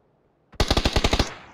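Video game gunfire in a tactical multiplayer match: a sudden rapid burst of about eight close, loud automatic shots in quick even rhythm, trailing into a brief echo.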